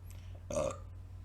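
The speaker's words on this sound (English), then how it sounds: "I opened my mouth to speak and a burp came" A person gives one short burp, brief and fairly clear against a quiet background hum, with no speech around it.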